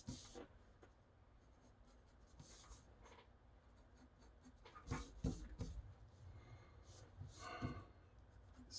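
Pencil strokes scratch on paper while a supercar is sketched, a quiet run of soft scrapes and short strokes, some firmer bursts near the end, with faint background noise.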